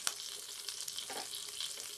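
Egg frying in a pan for a bologna sausage, egg and cheese bagel, a steady close sizzle with scattered small pops and crackles throughout, no talking.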